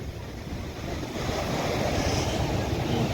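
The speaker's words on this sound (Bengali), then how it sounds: "ঢেউ প্রচণ্ড বেড়ে গেছে" Heavy surf crashes and roars steadily at Digha beach during high tide, waves running up close to the rocks; a continuous loud wash with wind buffeting the microphone and no talking.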